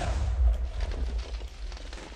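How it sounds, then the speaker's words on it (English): An explosion in the video game Minecraft gives a deep rumbling boom at the start that rolls and fades into low, crackling debris noise without speech. "That explosion!"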